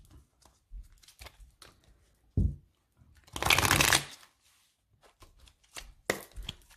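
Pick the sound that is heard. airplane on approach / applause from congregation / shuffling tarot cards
shuffling tarot cards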